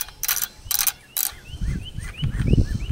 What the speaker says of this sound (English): you turn it. It's got a ratcheting mechanism in it, kind of like an Uzi.